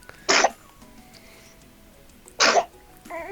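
Two short, sharp sneezes about two seconds apart, close and fairly loud, over a quiet background.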